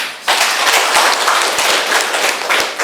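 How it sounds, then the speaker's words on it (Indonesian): Classroom applause for a student named Reni, a dense burst of many hands clapping close and loud for nearly three seconds. "Aplaus untuk Reni."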